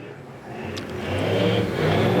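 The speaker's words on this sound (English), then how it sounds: "You can hear that engine and that throttle control being nice and soft to the top of 1 and 2." A race car engine at Golden Triangle Raceway holds a steady, rising drone under soft throttle, growing louder toward the end of the short stretch. Some voice-like murmur sits faintly underneath.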